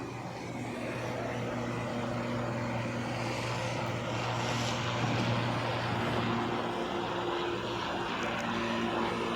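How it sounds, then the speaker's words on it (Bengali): A helicopter flies overhead above a coastal area near Rishikonda beach in Visakhapatnam, producing a steady, loud engine and rotor drone with a constant low hum throughout. "আবার হঠাৎ আকাশে একটা হেলিকপ্টারের দেখা।"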